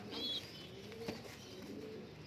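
Pigeons coo softly in a loft, low rolling calls repeated under a faint background hiss, close but quiet.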